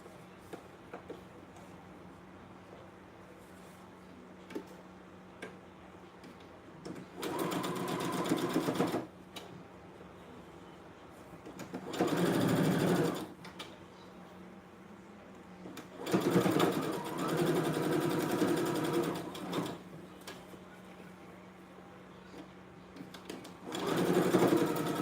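Sewing machine stitching along the bottom edge of a fabric bonnet, running in three or four separate bursts of a few seconds each with quiet pauses between, close and moderately loud.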